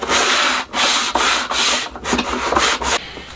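Close, loud back-and-forth strokes of 400 grit sandpaper rubbing a wooden guitar fretboard, about eight steady rasping passes in a regular rhythm with brief gaps between them.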